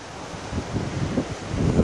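Strong wind buffets the microphone in steady gusts at the seashore, with a faint wash of surf underneath.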